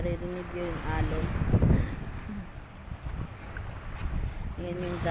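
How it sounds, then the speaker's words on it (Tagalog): Sea waves on the Kuwait shore at night: a steady, broadband wash mixed with wind noise, with a voice talking at the start and again near the end. "naririnig yung alon"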